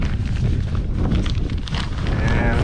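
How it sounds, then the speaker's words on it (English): Gusty wind blows outdoors straight into the microphone during a portable dog kennel setup, a steady loud low rumble with buffeting that runs through the whole moment, no clear speech above it. "It's a little windy out here."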